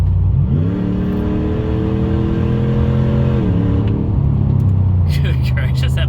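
A RAM 1500 Hemi with the exhaust cutout open accelerates hard, its loud V8 roar climbing in pitch, holding a rising drone, then dropping as it shifts before settling to a steady rumble with a few sharp clicks.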